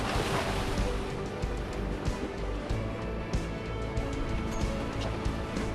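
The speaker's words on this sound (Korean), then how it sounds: "조업 시작 전부터 파도가 심상치 않습니다." Rough open-ocean waves off Yonaguni, Japan churn continuously around a fishing boat with a heavy wash of water and wind noise, steady and close, with no clear breaks.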